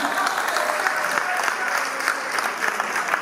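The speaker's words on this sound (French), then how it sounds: "On peut s'applaudir." Audience applause at a French live music event, dense steady clapping throughout with some crowd noise.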